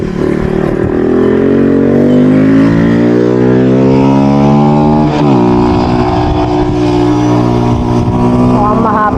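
A motorcycle engine drones steadily while climbing a long uphill road on the Marinduque loop, pitch rising gradually, dipping at a gear change, then climbing again, loud and continuous with wind and a voice underneath.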